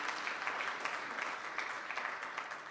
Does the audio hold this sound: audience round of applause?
yes